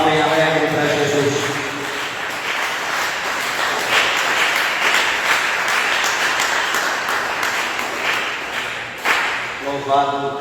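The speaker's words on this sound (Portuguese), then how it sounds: "dê uma salva de palmas bem alegre para Jesus" A church congregation claps and applauds for Jesus, with dense sustained clapping filling the space and a voice heard at the start and end.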